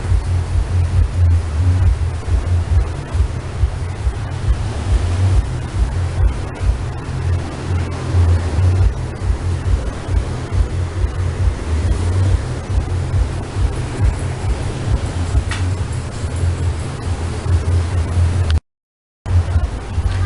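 River water rushing out through three opened gates after heavy rain in Vietnam, a continuous loud low roar with steady broadband hiss, unbroken apart from a brief dropout near the end.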